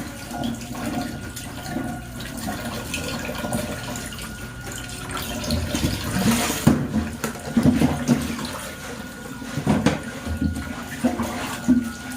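Water splashes and pours into a cooking pot outdoors, a steady running gush with a few louder sloshes near the middle and end, fairly close.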